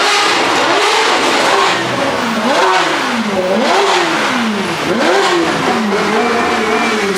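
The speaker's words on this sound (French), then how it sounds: "les 3 Ferrari sont en train d'arriver" Several Ferrari supercars, including an F8, arrive at a Dubai supercar season opening, their engines revving loudly and repeatedly, pitch rising and falling through close, continuous throttle blips with no talk.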